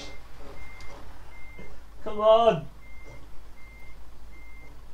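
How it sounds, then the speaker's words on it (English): A lorry reverses in Euro Truck Simulator 2, its reverse alarm beeping in a steady, evenly spaced pattern throughout, while someone briefly shouts in the middle. "it literally feels like I'm reversing a bloody lorry"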